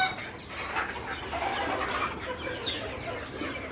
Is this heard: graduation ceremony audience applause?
no